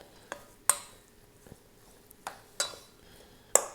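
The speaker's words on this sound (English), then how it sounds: "So if you want, you can give that a stir now." Dates and feta are stirred in a cooking pan, with a spoon knocking against the metal in several sharp, irregular clinks and scrapes, near and fairly quiet.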